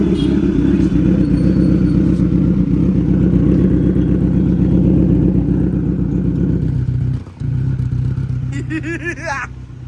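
A Kawasaki Z900 motorcycle fitted with a dB killer revs loud and close at a showroom, a sustained throaty roar that drops off near the end to quick, higher-pitched blips.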